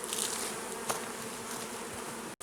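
Honeybees crawling into a box make a close, steady buzz that drones throughout, with a brief dropout just before the end.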